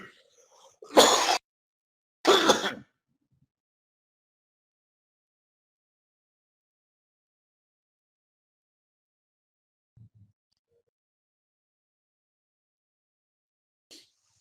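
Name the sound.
coughing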